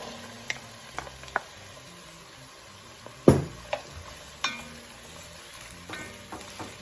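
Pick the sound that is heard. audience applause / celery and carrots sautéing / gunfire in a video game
celery and carrots sautéing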